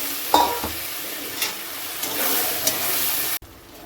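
Soybean chilli with meat masala, garam masala, turmeric and a splash of water being stirred in a pan, a steady close scraping and sizzling with a few sharper clinks, cut off abruptly near the end.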